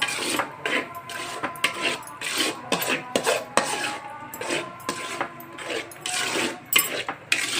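Two broken eggs scrambling in a pan on a low flame, with quick metal spatula scrapes and taps against the pan in an irregular rhythm, close and clear with no talk.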